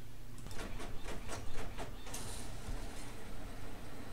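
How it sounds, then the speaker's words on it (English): A home printer feeds a small sheet of paper, giving a run of rhythmic mechanical clicks and whirs followed by a steady motor hum, close and moderately quiet. "So I would click print and load my little tiny sheet of paper into my printer."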